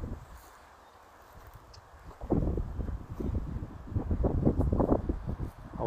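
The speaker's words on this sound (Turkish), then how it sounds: "Havada rüzgarlı." Wind blows outdoors in the terraced garden of a stone house at Kazıklı, Muğla, overlooking the sea. It starts quiet, then gusts into rough, buffeting rumbles against the microphone, with faint rustling.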